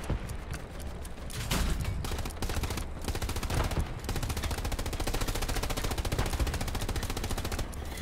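Rapid bursts of machine-gun fire in the World War II shooter Hell Let Loose keep rattling loud and close, with a dense stream of shots and short pauses between bursts.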